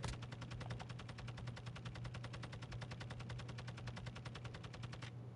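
Rapid automatic gunfire in a console shooter, a fast even stream of shots hammering without pause for about five seconds over a steady low hum, no voices.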